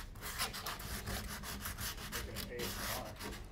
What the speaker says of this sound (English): Now, I'm sanding the edges that the canvas is going to go wrap around.